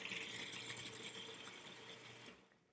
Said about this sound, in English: Let it go a little bit first so you can grind up the garlic with the mustard.